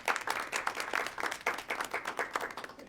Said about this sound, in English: That's another one probably deserves a clap or a round of applause, right?